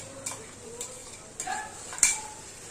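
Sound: sautéing ginger, garlic and chili spice paste in a pan

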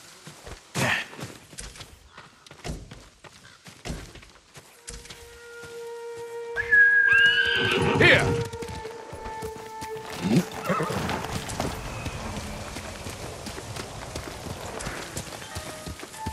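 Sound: horse neighing in a video game

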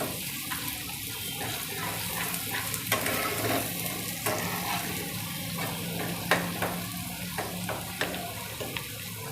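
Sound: stirring garlic and mango pickle roasting in oil

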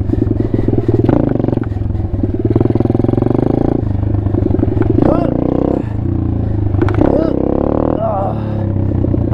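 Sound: Apollo RFZ Chinese dirt pit bike engine during wheelie attempt

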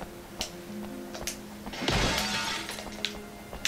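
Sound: glass smashing in the video game Obscure

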